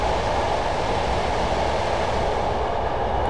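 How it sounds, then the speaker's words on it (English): A Class 111 diesel train coasting at about 50 mph on the Dumfries to Kirkcudbright route in Train Simulator 2015 gives off a steady, even rumble of running noise with a constant hiss, unbroken and without speech. "Now that we're at 50 miles per hour, I've released the brakes, and I'm just going to allow the train to coast momentarily."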